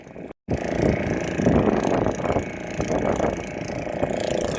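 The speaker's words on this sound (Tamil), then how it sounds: "பாருங்கள் போட்டு கடலுக்கு வந்துட்டு இருக்கு" A fishing boat's engine at sea, a steady mid-pitched drone with chugging texture running throughout, loud and close, after a brief cut at the start.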